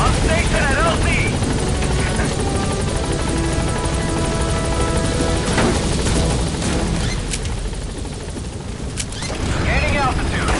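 A helicopter comes in to a landing zone in Metal Gear Solid 5, its steady rotor roar loud and continuous, with gunfire bursts and radio voices talking over the din.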